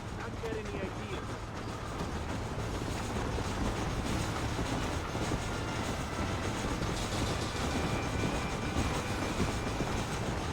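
A train runs in the video game Red Dead Redemption, a steady rumbling roll with faint clickety-clack that stays loud and even throughout, while voices talk over it.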